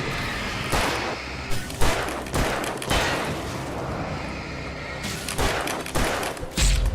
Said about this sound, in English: I'm gonna use a normal pistol against them